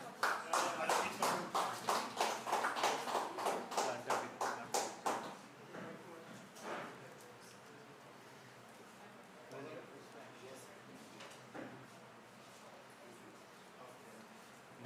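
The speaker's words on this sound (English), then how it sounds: "Whoever is here, please, round of applause." Short round of audience applause at a seminar, a few people clapping in a quick regular rhythm for about five seconds, then fading out, followed by quiet room tone with speech.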